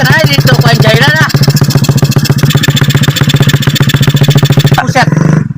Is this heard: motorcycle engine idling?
yes